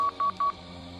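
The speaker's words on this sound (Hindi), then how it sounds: "फोन मिलाने लगी" Three short, evenly spaced telephone keypad tones beep in quick succession, close and clean.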